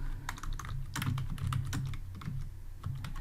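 Rapid, uneven keystrokes on a computer keyboard, close and clear, tapping steadily in bursts with no talking.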